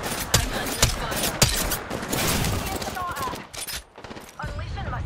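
Gunfire rattles in a horde-mode match of the Apex Legends video game: bursts of rapid shots and sharp cracks, some close and loud, over busy battle noise with a voice talking at times.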